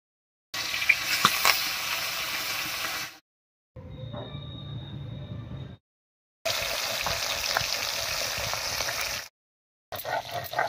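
Pabda fish coated in turmeric and salt spits and sizzles in mustard oil, heard in several bursts of crackling hiss separated by short silences, with one quieter, thinner stretch between them.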